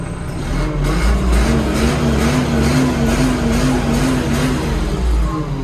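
Scout TB904C tractor diesel idling at around 800 rpm, a steady low throbbing with a slight rhythmic pulse, heard up close and alone.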